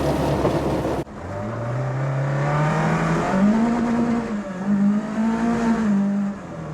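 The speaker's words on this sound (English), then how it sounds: "We are driving on snow with Nankang NS2R semi-slicks on." Mk2 Ford Escort on Nankang NS2R semi-slick tyres driving over snow, its engine note holding a steady drone then rising through the gears, loud and close with no talk.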